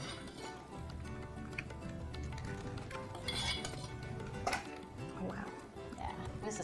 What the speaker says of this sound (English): I'm going to spoon some of this bechamel over the top.